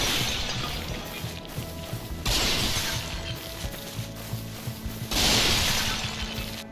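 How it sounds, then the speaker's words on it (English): Giant pots shatter in the video game Dark Souls, two loud crashing breaks a few seconds apart over a steady background of game ambience. "We then smashed some giant pots."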